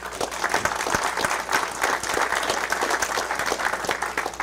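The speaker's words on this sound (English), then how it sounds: "So they deserve a round of applause too." An event audience gives dense, steady applause, many hands clapping together at a loud, even level for several seconds with no talking over it.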